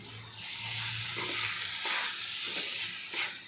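Washed plain Kolam rice stirred in a hot pan for an achari vegetable pulao: a steady, close sizzling hiss broken by a few scraping strokes of a spoon, with no talking.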